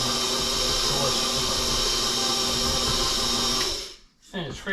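A kitchen mixer blends flour into molasses cookie dough with a loud, steady motor whir that runs for nearly four seconds before cutting off abruptly, leaving a few faint clatters.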